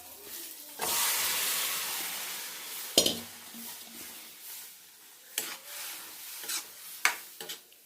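Cooked knol khol is mixed into moong dal in a pot, with a brief scraping rush followed by soft scattered scrapes and a few sharp knocks of the spoon against the vessel.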